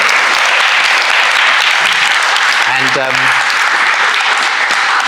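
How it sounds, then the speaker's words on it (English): An audience at a talk gives a steady, full round of applause throughout, close and loud, with a brief voice heard faintly beneath it. "Can we have a round of applause for David Wilkinson?"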